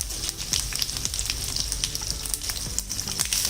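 Cumin seeds and a single green chili sizzle in hot oil for a spicy Kolhapuri misal, a steady close crackle of frying with small stirring scrapes and no talk.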